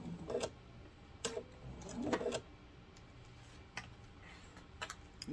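A sewing machine stitches a fabric seam on a grocery bag with quick, rhythmic ticking, pausing briefly between runs of stitches, close and moderately quiet.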